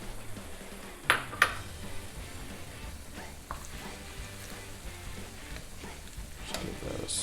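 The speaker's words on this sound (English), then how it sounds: "Just give that a stir." A lamb ragu with crushed tomato and finely diced rosemary being stirred in a pan, with soft sizzling, scraping and a couple of sharp utensil clinks near the start.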